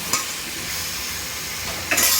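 Pasta with bok choy stirred in a hot pan, a steady frying sizzle with soft scraping and two brief louder clatters at the start and end.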